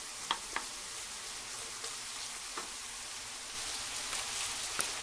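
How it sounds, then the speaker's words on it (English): Onions sizzling in butter in a pan over medium heat, a steady soft crackling hiss with a few sharper pops and light utensil taps, close and continuous. "we're going to cook these until the onions are almost done"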